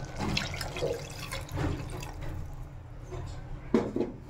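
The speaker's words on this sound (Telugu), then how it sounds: "సో ఈ స్టేజ్లో మనం వాటర్ అనేది వేసుకున్నాము" Water is added to a pot of partly cooked mutton curry, giving a brief splashing, trickling pour with light kitchen clatter, close and moderately loud.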